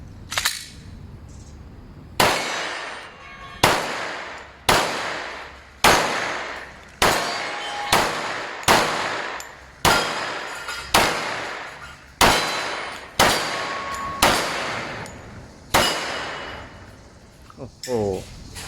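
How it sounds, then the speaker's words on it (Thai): Glock 21SF pistol fired at steel plate targets and a coconut outdoors: about fifteen sharp, loud shots in a steady rhythm, each ringing off steel with a short decay, spaced roughly a second apart. "กล็อกยังไงก็เป็นกล็อกนะครับยิงแบบไหลลื่นมากเลย"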